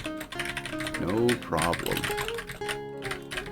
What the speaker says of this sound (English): keyboard noises, yay or nay? Do you guys like hearing them?